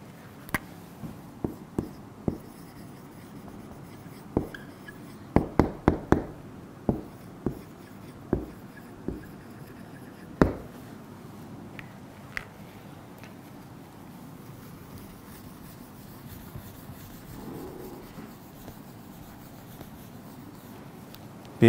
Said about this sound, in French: Nous allons donc écrire la formule périmètre du carré